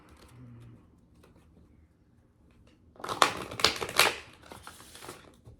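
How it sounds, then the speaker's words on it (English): Quick riffling bursts as a 40-card tarot deck is shuffled, a few rapid flutters after a quiet stretch. "Just feels funny to shuffle with 40 cards"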